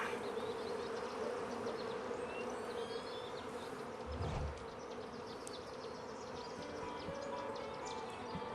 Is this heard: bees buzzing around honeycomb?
yes